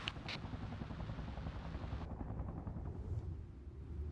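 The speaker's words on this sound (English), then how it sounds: "This is a Huey armed with machine guns on both sides, but for now they're not using it as such" A Huey helicopter fitted with machine guns on both sides, in a video game, its rotor and engine keeping up a steady, dense rumble throughout, with no gunfire clearly standing out.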